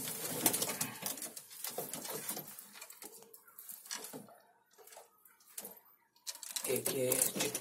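Pigeons of fancy breeds, including Madrasi, Goli and Saharanpuri birds, coo softly in a loft, low murmurs heard beneath someone talking for most of the clip.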